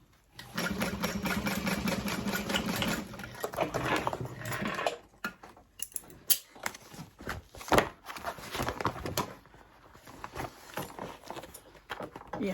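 A sewing machine stitches a bag seam in a fast steady whir for a few seconds, then stops, leaving quiet handling noises and a soft voice.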